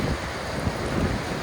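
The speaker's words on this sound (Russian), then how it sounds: "Там такая нехилая волна" Rough winter sea waves surge and crash continuously against the shore at Lazarevskoye on the Black Sea, with strong wind buffeting the microphone during rain. The roar is loud and steady throughout.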